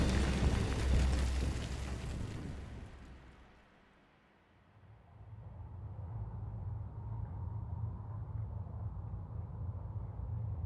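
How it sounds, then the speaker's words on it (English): A rocket-propelled meteor explodes in the video game Donkey Kong Bananza, a loud rumbling blast that fades out and then gives way to a lingering low roar. "Oh, it's rocket-propelled meteor."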